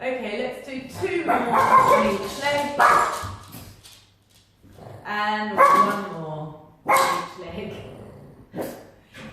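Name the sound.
dog barking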